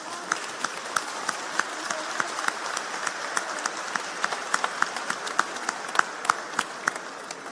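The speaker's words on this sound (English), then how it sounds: "can we give a round of applause to your friend," Graduands and guests at a graduation ceremony give a round of applause, a steady wash of many hands clapping with sharper individual claps standing out, moderately distant and continuing throughout.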